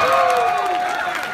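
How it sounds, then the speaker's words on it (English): An audience at the MCM London 2014 comic convention's Power Rangers panel applauds and cheers the cast, a dense, sustained crowd roar with a few tonal voices riding on top. "please give our cast members for the Power Rangers one more big round of applause"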